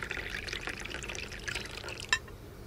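Coffee is poured from a flask into a cup as a quiet audio-drama effect: a soft, steady trickle of liquid that ends in a small, sharp clink.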